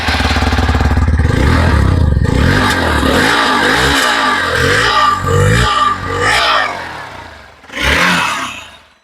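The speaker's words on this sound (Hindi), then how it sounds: "ये था एक्सपल्स का एग्जॉस्ट साउंड।" A Hero Xpulse 200 motorcycle exhaust rumbles at idle, then blips through several short rhythmic revs that rise and fall, ending with one stronger rev burst, loud and close.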